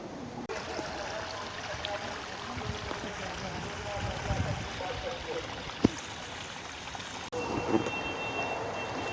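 Cold river water flows steadily between hills near Nemra village, a continuous close rushing wash that lasts throughout, with faint voices mixed in.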